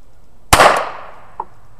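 A single sharp .22 LR gunshot fired through a 12-gauge chamber adapter at a bottle, a loud close crack with a quick decaying tail, followed by a faint small knock.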